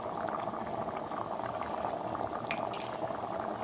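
Thick goat blood gravy bubbles and simmers in a pan, a steady close bubbling with soft pops, quiet and continuous without talk.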